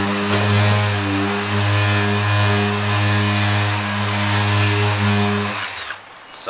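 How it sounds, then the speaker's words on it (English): A power sander with a 400-grit soft pad runs steadily across a drift car body panel, a loud, sustained motor drone with a strong hum that cuts out near the end. "So I've gotten the sander in pretty well everywhere I can."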